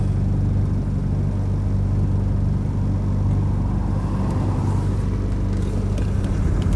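Land Rover 90 with 2.5 TD diesel engine idling and moving in reverse gear, a steady close low rumble running throughout with no talk.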